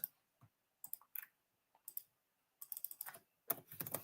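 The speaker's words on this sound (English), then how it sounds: "let's type in the name Elizabeth." Computer keyboard typing in quick irregular bursts of crisp key clicks, close and fairly quiet, with short pauses between groups of strokes and a faster flurry at the end.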